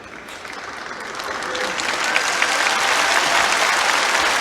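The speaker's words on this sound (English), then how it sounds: "They tend to clap on a lot of things that maybe less avid table tennis fans might not appreciate" A crowd claps at a table tennis final in Busan, a dense steady patter of many hands that swells gradually and holds near and full, with no voices on top.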